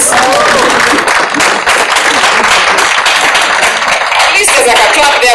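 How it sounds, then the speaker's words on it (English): A gala dinner audience at a women's conference applauds, broad dense clapping that fills the room loudly and steadily with crowd noise underneath. "Can we give them a round of applause?"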